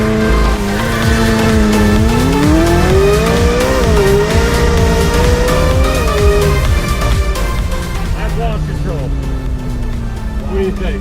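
A McLaren launches hard under launch control on a wet road, its engine rising in a loud climbing wail through several gear changes, with tire noise and people talking over it.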